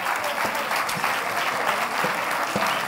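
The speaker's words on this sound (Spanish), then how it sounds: "Un fuerte aplauso a todos ellos." Steady, dense applause from a large crowd at a sports awards gala in Sagunto, Spain, loud and continuous throughout with no pauses.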